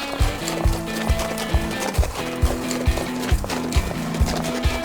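Horse hooves clip-clop in a steady walking rhythm in the Forestry 2017 video game, close and regular, with a humming tonal game background underneath.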